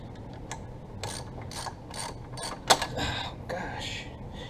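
A ratchet wrench snugging up a fastener on a John Deere 4630 tractor, a run of quick clicking pawl strokes close by, with a louder sharp click midway and light talk and shop noise underneath.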